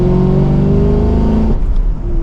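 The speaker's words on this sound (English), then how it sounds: "And with one last acceleration," A 2023 Chevrolet Camaro 2SS convertible accelerates hard, its V8 engine a loud, steady rising roar close by that eases off and drops in pitch near the end.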